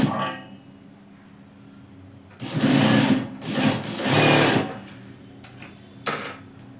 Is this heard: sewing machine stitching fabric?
yes